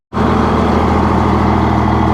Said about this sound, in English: Sorry for the noisy truck,